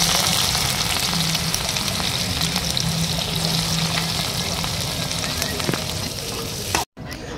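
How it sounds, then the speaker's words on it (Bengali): Onions frying in a pan for a Bihar-style chicken kosha with whole garlic, giving a close, steady sizzle that runs on alone, broken by a brief drop near the end. "পেঁয়াজটা হালকা হালকা ভাজা হয়ে গেছে"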